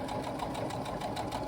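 A sewing machine back stitching a laptop bag pocket, a fast, even mechanical whirr with rapid rhythmic needle thumps, close and steady through a brief burst, with no talk over it.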